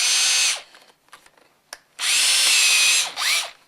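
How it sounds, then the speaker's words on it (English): A stepping drill whines loudly as it bores holes in an old wooden window frame from a century-old Norwegian window: two sustained high bursts with a shorter one at the end, and faint handling clicks between them. "For that I'm going to use a stepping drill."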